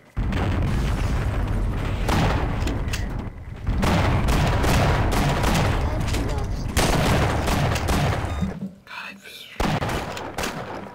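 Rapid gunfire and booming shots from the first-person shooter Half-Life, dense and loud through most of the stretch with short pauses between bursts.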